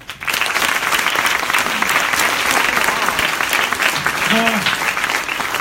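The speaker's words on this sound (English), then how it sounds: "Let's give these guys a round of applause." An audience at a demo day applauds, with steady, loud, dense clapping throughout and a brief voice near the end.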